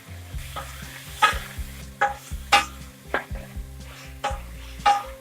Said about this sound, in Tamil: இப்போ இதெல்லாம் நல்லா வதங்கிருச்சு.